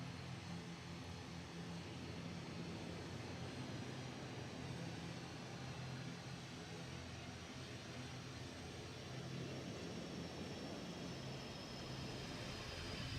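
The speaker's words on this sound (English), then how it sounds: "the aircraft coming in at, well, again, around 600 feet, bit lower this time, with the Concorde in a slot position behind the 747" A Boeing 747 converted freighter and a Concorde tucked in behind it pass low at about 600 feet over an airshow, making a loud, steady, broadband jet roar that fills the whole stretch with a faint whine rising near the end.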